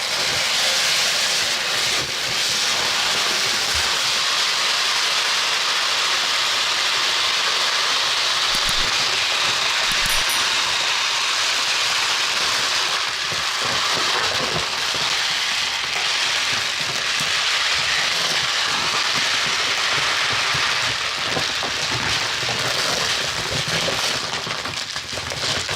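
Dry rice poured into a storage container indoors above carpet, a steady, dense rushing hiss that runs unbroken for the whole stretch with slight swells in loudness.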